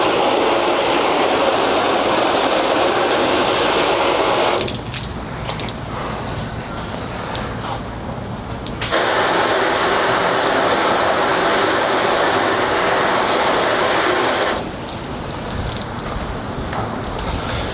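Garden hose spray rushes steadily onto a ceramic-coated car, loud and close, with the hiss dropping away for a few seconds twice as the stream shifts or pauses.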